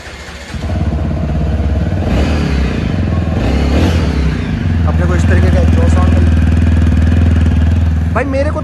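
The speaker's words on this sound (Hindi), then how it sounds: "बाकी मैं आपको इसका एग्जॉस्ट साउंड सुना देता हूँ गाड़ी न्यूट्रल में है" A TVS Apache RTR 165RP motorcycle in neutral idles loudly up close, its exhaust giving a steady throaty rumble with a few short revs and clattering mechanical noise.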